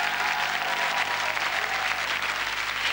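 An audience applauds a French rock band at a gold record event, with a dense, steady wash of clapping that stays loud and even throughout.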